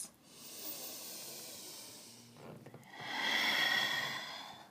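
Slow, audible breathing in a home yoga practice: a long hissing exhale, then a pause and a deeper, louder breath, close to the mic with no talking.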